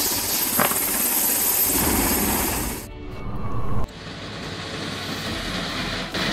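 A helicopter flying at night, a loud steady rotor and turbine roar that drops briefly and returns with a different tone after an abrupt cut, no voices.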